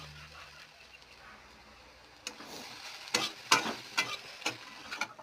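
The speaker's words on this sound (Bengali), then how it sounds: "তারপর এটা তুলে সোয়াবিনটা ধুয়ে ভেজে নিব ওই তেলে" Soaked soybean chunks fry in hot oil, a soft sizzle at first, then a spatula stirring and scraping the pan in quick, uneven strokes, close and moderately loud.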